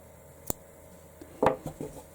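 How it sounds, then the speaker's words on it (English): Scissors snip through crochet yarn, a few short crisp cuts heard up close and quiet with small handling noises between them and no voices. "cut the yarn"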